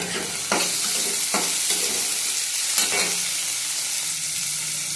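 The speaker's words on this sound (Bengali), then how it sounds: "এগুলি বেগুনটা আলুটা আগে ভেজে নেব।" Eggplant and potato pieces frying in hot oil with a slit green chili, a steady close sizzle with a few brief stirring scrapes and no talk.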